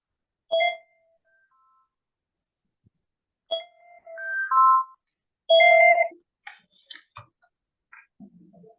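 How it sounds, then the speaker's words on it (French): A mobile phone rings with short electronic melody notes, coming in separate bursts with gaps between them, clear and fairly close in a quiet room. "Ah, c'est toi qui sonne, c'est ton téléphone."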